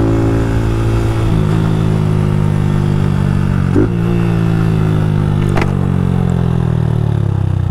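Up close, a modified Honda Fan 160 motorcycle holds a loud, steady rev, with a couple of quick throttle stabs and rattly pops before the pitch sags slightly toward the end; no one speaks.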